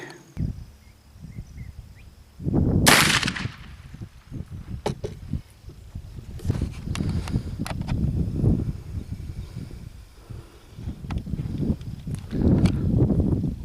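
A Lyman Great Plains muzzleloader rifle fires one sharp, loud shot outdoors while it is being sighted in. Rustling, shuffling movement and low background noise continue afterward.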